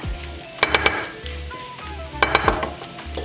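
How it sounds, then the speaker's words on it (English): Eggs being stirred as they fry in a pan, with a steady sizzle broken by a few sharp scraping clatters of the utensil against the pan, close and clear, no talk. "Put in your eggs. And stir it until it's cooked."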